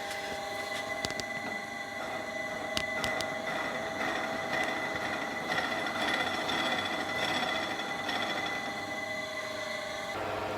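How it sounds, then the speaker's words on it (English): A steady, continuous mechanical whir of a machine drilling out steel stock runs throughout, with a few sharp metallic clicks early on and no voices. "So now I'm just drilling out a piece of steel stock to act as a split ring"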